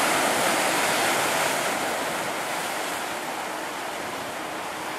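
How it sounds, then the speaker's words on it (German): Pacific Ocean surf rolls onto the beach at Odawara, Kanagawa, on a windy day, a loud, continuous roar of breaking waves with wind noise that eases slightly toward the end, no voices present. "Wir sind hier übrigens am Strand von Odawara und das Wasser hier ist der Pazifik."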